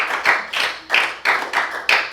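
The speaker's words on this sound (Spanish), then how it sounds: "¿Quién le da un aplauso al Señor" A church congregation applauds during a Spanish-English bilingual sermon, giving short loud bursts of clapping that rise and fade in a steady rhythm, about seven pulses, close and with no talking.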